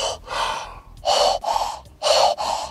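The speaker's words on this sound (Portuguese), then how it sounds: "iniciam um ritual de respiração coordenada inversa" Two elders in the film Midsommar perform a coordinated reverse-breathing ritual: loud, close, rhythmic gasps and forceful exhalations in uneven bursts, with no speech.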